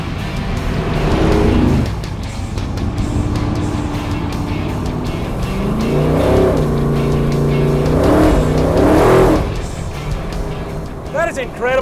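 A big block Chevy V8 in a Holden Torana, fed by twin 850 double-pumper carburettors, rumbles loudly at idle and is blipped in several sharp throttle revs around 3,000 RPM, with people talking over it.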